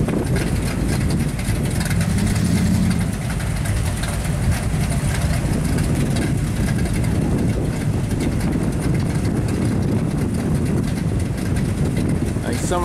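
A loud, steady engine drone rumbles throughout at the Woodward Dream Cruise car event, low and constant like a car idling nearby, with faint voices mixed into the noise.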